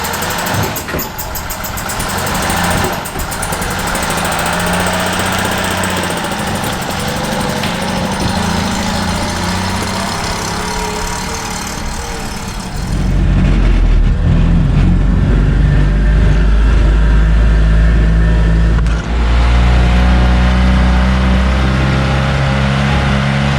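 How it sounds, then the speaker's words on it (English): A 1957 Lloyd LP600 two-cylinder engine runs loud and close, a buzzy steady idle that shifts midway into a heavier, deeper drone as the car drives off, with brief changes in pitch. "a 2-cylinder Lloyd engine. I'm going to button this back up and let's take it for a drive."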